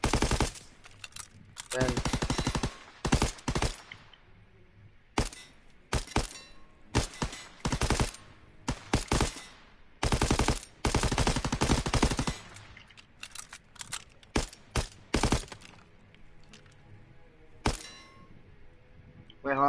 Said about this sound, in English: Let's shoot this target.